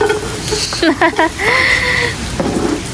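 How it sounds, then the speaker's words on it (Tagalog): Onion and garlic sauté in hot oil for chicken tinola, giving a bright, close sizzle with stirring as a person talks over the cooking. "at tayo po ay magigisa na po"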